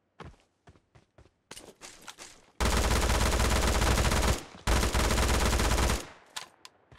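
PUBG Mobile gunfire: a few scattered clicks and single shots, then two long, loud bursts of sustained automatic fire separated by a brief pause, and finally some sparse footsteps and clicks.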